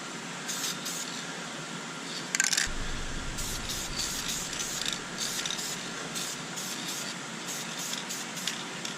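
Spray paint mists in short bursts onto car interior plastic, a series of soft hissing sprays repeating every second or so with faint mechanical clicks under them, close and moderately quiet.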